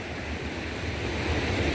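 Water in an irrigation canal rushes hard and steadily, a loud continuous roar with no voices over it.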